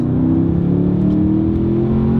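A Porsche Panamera Turbo S E-Hybrid Sport Turismo makes 680 horsepower. It accelerates hard with a loud, steady engine roar heard from inside the cabin, and its pitch climbs slowly with no speech over it.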